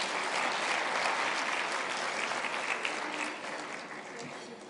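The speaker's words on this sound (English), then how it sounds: "Big round of applause." Audience clapping at a South African science awards ceremony, a steady, moderately distant wash of applause that eases slightly toward the end, with faint voices mixed in.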